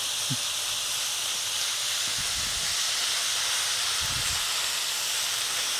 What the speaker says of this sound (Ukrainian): А цибулька продовжує смажитись разом з фенхелем.